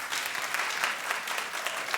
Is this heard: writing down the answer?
no